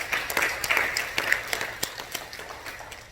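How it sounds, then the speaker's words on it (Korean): Church congregation applause during a Sunday service, with moderate scattered clapping heard at a distance in a reverberant hall and slowly tapering off over a few seconds. "우리에게 승리를 주신 하나님께 영광의 박수합니다."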